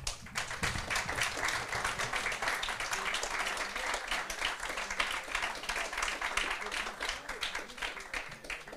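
A live audience at a music event claps and applauds, a dense, steady round of clapping that fills the room evenly for several seconds, with faint voices beneath it.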